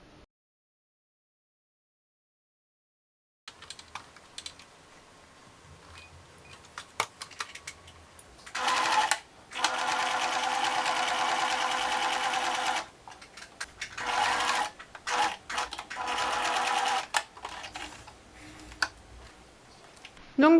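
A sewing machine stitches a seam on a fabric mask, whirring in steady runs broken by short pauses and ticks after a silent opening, near and loud.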